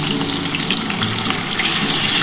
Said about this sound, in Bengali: এবার এই যে তেলটা আমার গরম হয়ে গেছে, এবার আমি মাছগুলো ভেজে নিচ্ছি।